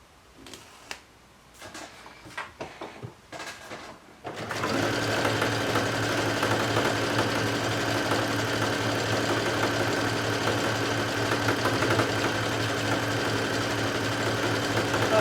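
A sewing machine stitches elastic onto a swimsuit top. A few scattered handling clicks and taps come first, then a loud, steady, close motor whir with a rapid needle rhythm runs continuously, with no voices.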